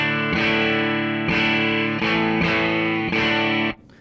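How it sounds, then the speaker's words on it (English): Clean bypass tone of a Callaham Strat electric guitar played through a Two Rock Classic Reverb amp over a Gary Mulder audio cable: five full, sustained chords ring out one after another, then stop abruptly. "So this is the bypass sound using my Two Rock Classic Reverb with my Callaham Strat."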